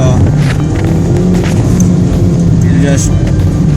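A Hyundai i20 Elite 1.2 petrol engine revs hard in a low, throaty drone that holds throughout, with someone talking over it.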